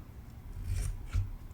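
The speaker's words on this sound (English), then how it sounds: "we'll just trim off the edges here. Hopefully my scissors are sharp enough." Scissors trimming the edges of a gingham birthday card, two quiet crisp snips of paper close up, the blades sounding a little dull.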